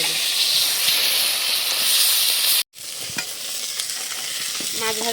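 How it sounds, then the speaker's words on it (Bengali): Large fish pieces frying in oil in a pan give a loud, steady hissing sizzle close by, which drops out briefly and returns with scattered crackles and stirring clinks. "এই মাছগুলো ভাজলে হয়ে যাবে।"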